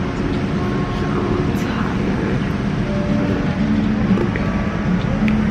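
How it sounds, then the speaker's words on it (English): Steady, loud broadband roar inside an airplane cabin in flight, constant engine and air noise with no breaks across the few seconds. "now I'm on my second plane going to Tulum"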